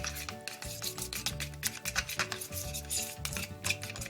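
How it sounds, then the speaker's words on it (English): Blue dye gets stirred into yellow screen-printing ink, a continuous scraping, rubbing churn in an irregular rhythm, close and fairly loud. "I want to drop the blue ink in and mix it up"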